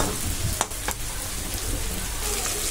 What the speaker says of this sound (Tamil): ஆனியன் சேர்த்து நல்லா வதக்கிக்கலாம்